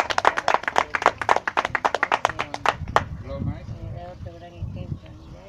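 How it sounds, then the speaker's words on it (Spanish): Group clapping at a chess tournament award ceremony held by the Mala municipality, brisk and fairly loud for about three seconds, then fading out as voices and chatter take over. "Aplausos."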